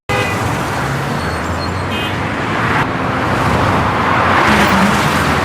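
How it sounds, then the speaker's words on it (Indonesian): Busy street traffic with cars passing close by, alongside a continuous roar of engines and tyres and a few brief horn toots, loud and steady throughout. "Mobil-mobil mewah melintas tanpa peduli, kontras dengan dua nyawa kecil yang terlupakan di trotoar."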